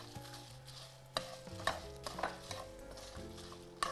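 Chicken and spices for Mangalorean kori roti chicken roasting in a pan: a soft, steady sizzle broken by sharp scrapes of stirring, with quiet music playing underneath.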